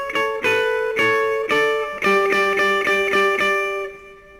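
A clean guitar rings out a variation on a well-known riff, in the style of a famous guitarist, with steady repeated picked notes over a held tone, close and clear, fading at the end.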